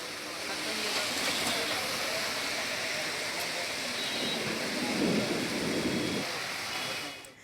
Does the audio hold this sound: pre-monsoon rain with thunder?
yes